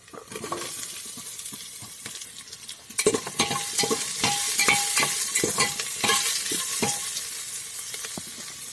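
Spices with garlic paste and chopped onion sizzle steadily in hot oil while a spoon scrapes and stirs the pan with repeated clinks, close and continuous.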